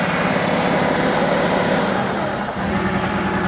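A Porsche 3.2 Carrera engine idles high in a steady, close, loud rumble with a rapid pulsing firing rhythm and a brief dip partway through, no talk over it.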